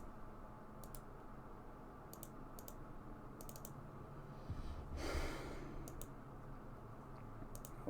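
Mouse clicks on a computer during a Palworld dedicated server file transfer, sharp isolated clicks repeating every second or so over a steady background hum, with a louder rustling burst midway.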